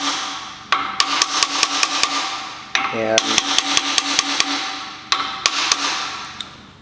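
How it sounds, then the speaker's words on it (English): Rapid bursts of brass hammer taps on a connecting rod in quick groups, bright and close, with a brief quiet word between sets. "just take a little brass hammer, pull real hard, tap it a couple times"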